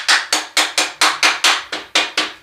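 A hammer taps repeatedly on a modern sporting rifle's mechanism, about ten sharp metallic strikes in a quick, even rhythm, loud and close.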